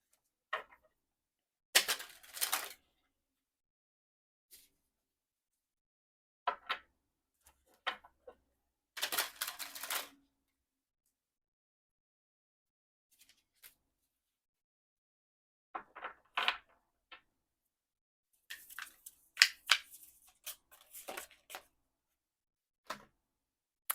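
Oracle cards being shuffled and drawn make scattered short bursts of riffling and soft tapping, separated by long quiet gaps, close and fairly faint.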